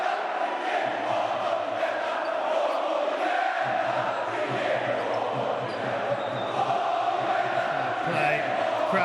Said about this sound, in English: crowd back in full voice, as you would expect.